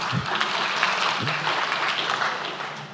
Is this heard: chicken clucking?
no